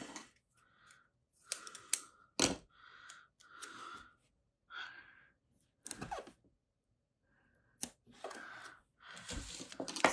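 Scissors snipping paper for a planner, quiet separate cuts and rustles close up, with soft handling noises between the snips and short pauses.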